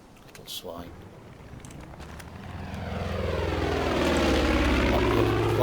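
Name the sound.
propeller plane flying over in Far Cry 5 video game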